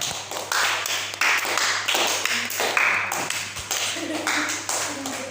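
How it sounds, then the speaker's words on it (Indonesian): A classroom of students claps together, a dense patter of hands in rapid rhythmic bursts, close and steady across the whole stretch, with faint voices mixed in. "Tepuk tangan."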